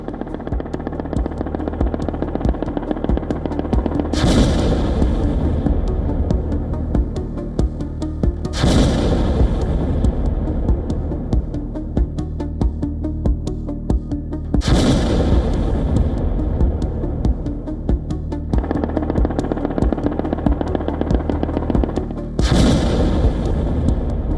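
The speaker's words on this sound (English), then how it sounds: "Explosions rip through cities." Heavy explosions and artillery strikes hit Ukrainian cities, four loud booms arriving at irregular intervals over a continuous rumbling roar.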